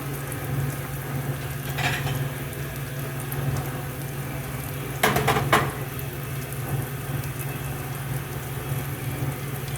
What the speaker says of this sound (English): fold the omelet in half like I did, and then let it cook for about 30 seconds on each side